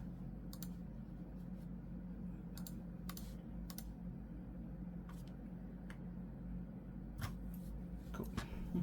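Typing on a Keychron Q5 HE mechanical keyboard, with scattered crisp key clicks arriving in irregular bursts over a steady low background hum, close to the microphone.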